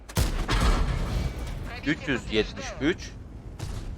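Tank gunfire in World of Tanks, several heavy shot thumps at the start, then quieter mechanical clanks under someone talking.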